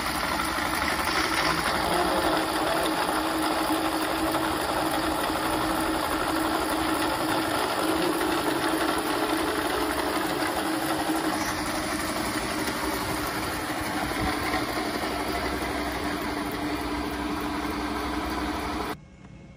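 A dynamic balancing machine spins a rotor at a steady whir, a continuous droning hum with broadband mechanical hiss, holding level throughout before cutting off abruptly at the end.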